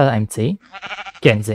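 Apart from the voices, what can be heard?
sheep bleating in a video game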